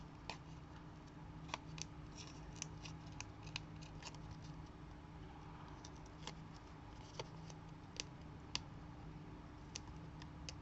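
Quiet snipping of scissors cutting paper, a series of irregular small clicks over a low steady hum, close and faint.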